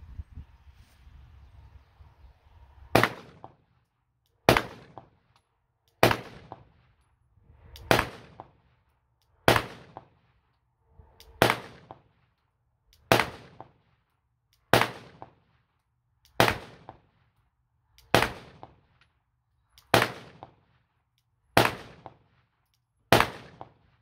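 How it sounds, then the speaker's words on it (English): Glock 19 pistol with a gold-plated slide firing about fourteen sharp, loud shots at a steady unhurried pace, each crack ringing out briefly before the next, with no talking. "Let's do a little shoot and see how she bucks."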